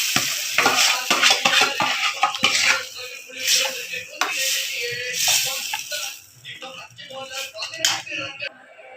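Tempering poured into a ground onion and coconut paste for fish curry, bursting into a sizzle as a spoon clatters and scrapes the pot in quick irregular strokes, loud and close, no speech.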